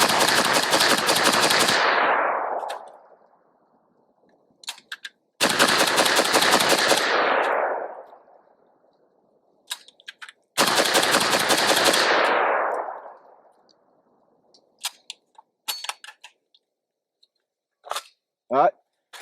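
Three long bursts of fully automatic rifle fire at an outdoor range, each rapid string lasting about two seconds and ringing off with a fading echo, followed by quieter clicks and handling noises, and a voice briefly speaks near the end.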